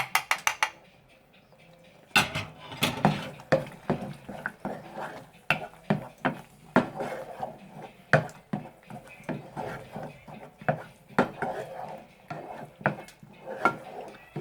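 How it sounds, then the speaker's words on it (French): A fork stirs thick tomato purée with harissa in a cooking pan for an arrabbiata pasta sauce, giving repeated close scraping and clinking taps in an irregular rhythm, with a quiet stretch at the start and continuing steadily after. "On attend que ça cuit un peu et on continue à rajouter, on continue à mélanger."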